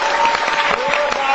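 Audience clapping at a school program honoring a blind cricket team: a short burst of dense, steady applause from a crowd, with a voice and a sustained tone carrying over it.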